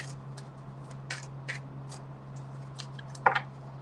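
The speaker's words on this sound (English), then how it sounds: "Two shuffles." Tarot cards being shuffled by hand in two quick bursts, a soft riffling patter followed near the end by a sharper, louder flutter, close up over a steady low hum with no talking.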